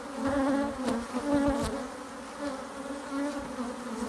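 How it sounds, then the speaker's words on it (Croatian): Honey bees buzzing at the entrance of a beehive, a dense continuous droning hum close by, with no other sounds or talk. "Streši ove pčele ovdje ispred"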